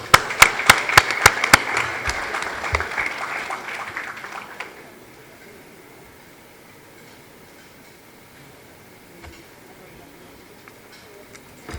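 Audience applause at La Nuit du Bâtiment awards ceremony, sharp crisp claps loud for several seconds then fading into a quiet room.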